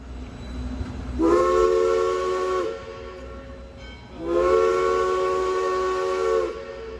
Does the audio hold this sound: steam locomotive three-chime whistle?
yes